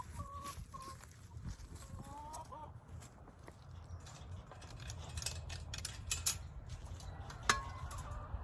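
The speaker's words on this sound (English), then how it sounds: "I'm going to let the chickens out" Chickens cluck and murmur nearby as they are let out in the morning, short soft calls scattered over rustling and faint mechanical clatter.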